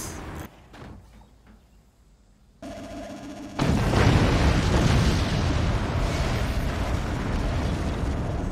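A weapon fires in a video game and sets off an explosion, starting with quieter mechanical sounds, then a sudden loud blast that swells into a long, heavy rumbling roar lasting several seconds.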